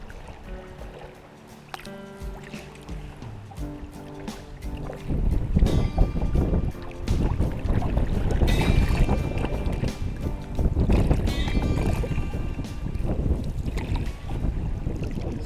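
Solo canoe paddling on Canoe Lake in Algonquin Provincial Park, steady water swishes and splashes from strokes close by, with wind buffeting the microphone.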